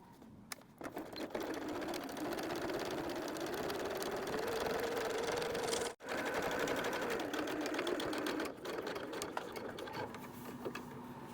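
A domestic sewing machine runs steadily, top stitching canvas on a messenger bag with a lengthened stitch, with one brief pause midway and a slight change in tone toward the end.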